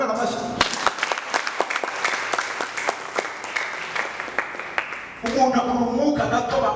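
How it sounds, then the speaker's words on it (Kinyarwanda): A church congregation claps in a dense, continuous burst of applause with sharp overlapping hand claps, then a voice begins speaking over the tail of it. "Ubu ntabwo twamukomera amashyi."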